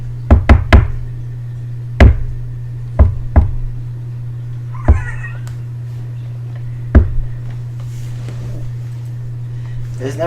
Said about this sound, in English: Outside Sayori's room, I knock on her door.